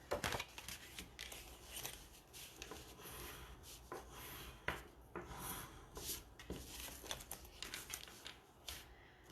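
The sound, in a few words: trimming paper for a handmade card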